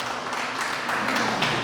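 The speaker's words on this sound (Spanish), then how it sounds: "Dale un aplauso a Dios por eso." A church congregation applauds God during a Spanish-language sermon, a dense, steady wash of clapping that holds at an even level from start to finish.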